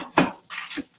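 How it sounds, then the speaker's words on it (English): A spatula breaks up chunks of vegan chili in a pan with a few close, scraping clatters of metal on cookware, alone without talk. "what I'm going to do is just break it up a little bit with the spatula"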